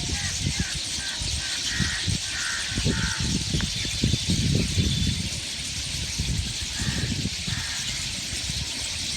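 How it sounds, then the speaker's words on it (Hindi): Crows caw in repeated bursts through a morning outdoor scene, fairly distant, with faint small-bird chirping and a soft background hum. "सुबह मॉर्निंग में चिड़ियों की चहचहाट सुनने को मिल रहा है।"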